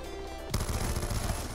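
Rapid automatic gunfire from the video game Black Ops 2 bursts in suddenly as a dense, continuous stream of shots, loud and close with no talk.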